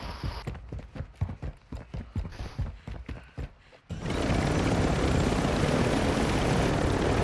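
A video game helicopter rotor starts up loud and steady about four seconds in and drones on without a break. Sharp clip-clop taps come before it.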